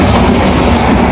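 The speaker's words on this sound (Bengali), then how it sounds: "প্রথম ট্রেনের যাত্রা।" A train rolls along the rails on a passenger journey, a loud, close, continuous rumble with dense rattling from the carriage.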